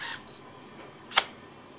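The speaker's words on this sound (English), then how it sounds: "When I pressed the button, the mirror flipped back down again in order to take an AF reading." Canon 450D (Digital Rebel XSi) DSLR with its mirror flipping back down and an autofocus confirmation beep: a single sharp mechanical clack near the middle, preceded by a faint high beep, in an otherwise quiet room.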